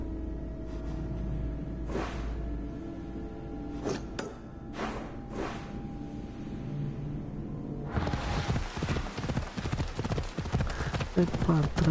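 A horse gallops in Assassin's Creed Odyssey, hoofbeats growing louder and denser toward the end, with someone talking over the ride and a few whooshes.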